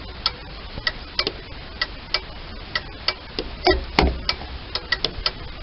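A turn signal flasher in a 1967 Sunbeam Alpine ticks in an even, steady rhythm of sharp, close clicks, with a heavier clunk partway through.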